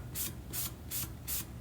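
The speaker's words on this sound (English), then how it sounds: "we're just going to sand to remove the finish on the wood" Sandpaper is rubbed by hand over a wooden sign to strip its finish, giving four steady, evenly spaced scraping strokes, close and fairly quiet, over a low background hum.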